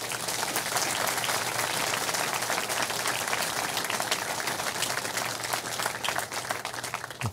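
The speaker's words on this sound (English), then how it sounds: "So why don't we give them all a big round of applause." Sustained audience applause at a governor's jobs announcement event in Palm Beach County, a steady, even wash of many hands clapping throughout, moderately distant and filling the room, tapering slightly near the end.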